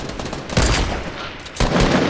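Gunfire in Fortnite Battle Royale, a dense burst of in-game shots from a rocket-era match, loud and close, with two clusters of rapid firing separated by a brief lull.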